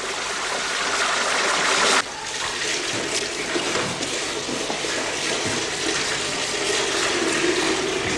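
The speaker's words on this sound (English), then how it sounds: "we're ready to run the whey off" Whey drains off cooked cheese curd during cheddar making, a steady, full gushing pour of liquid that runs without a break, easing slightly in force after a couple of seconds and then continuing evenly.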